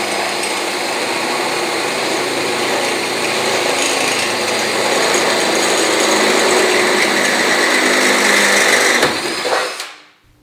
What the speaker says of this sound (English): Using a 3/8 inch bit,